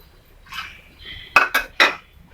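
A metal spoon scrapes and knocks against a pot while stirring thick uluntham kali, a soft scrape followed by three quick, sharp clinks close by, with no talking.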